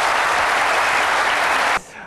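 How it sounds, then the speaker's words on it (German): Thunderous audience applause for a performer named Marco, loud dense clapping sustained from the start and then cut off sharply near the end, leaving a quieter room. "du kriegst nochmal einen donnernden Applaus"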